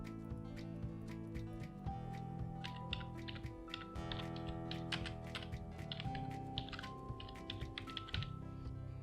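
Rapid keystrokes on a computer keyboard while text is edited for an embedded-systems program, a steady near pattering of clicks running throughout with uneven rhythm and no voices.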